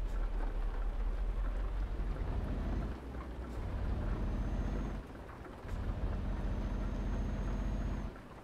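Steady rain hisses over a truck in Euro Truck Simulator 2, a dense continuous wash with a low engine rumble beneath it, dipping briefly a few times before resuming.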